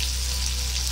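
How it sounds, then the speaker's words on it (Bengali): Spices frying together with tomatoes in a pan, a steady close sizzle with a low simmering hum, with no voices and no breaks. "একটু ভেজে নেবো টমেটোর সঙ্গে।"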